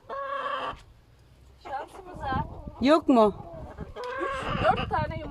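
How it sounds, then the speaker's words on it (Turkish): Chickens on a village farm in Turkey cluck and squawk close by in several bursts, with one loud, drawn-out call in the middle. People talk over and between the calls. "Yumurtayı canlı canlı tavuk çıkarırken çekelim."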